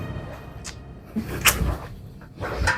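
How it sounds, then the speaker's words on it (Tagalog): Someone knocks on a house door, giving a few separate, fairly loud thumps about a second apart over faint background noise. "Kumakatok na tao."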